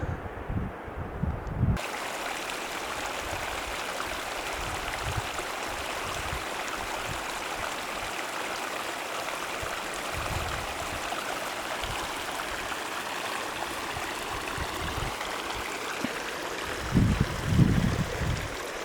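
A mountain stream in the Sierra Nevada rushes steadily as broadband water noise, close and continuous throughout, with occasional low wind buffeting against the microphone and no voices.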